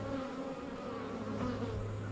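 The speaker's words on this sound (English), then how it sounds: "start smoking them so I can drive all the bees out of there" Honeybees buzzing around an open hive during frame inspection, a dense continuous drone close by, steady and unbroken, with no voices.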